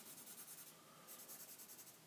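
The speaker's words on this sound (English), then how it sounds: "I'm just using a number 2 pencil right now." Graphite of a number 2 pencil scratching across paper in quick repeated strokes, a soft steady rasping rhythm with brief pauses, close and fairly quiet, no voices.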